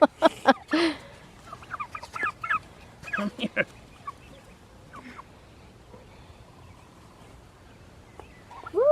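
Backyard chickens clucking and squawking close by in short irregular bursts, with a person speaking briefly among the calls.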